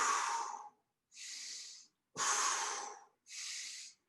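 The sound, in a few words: breathing during face pull exercise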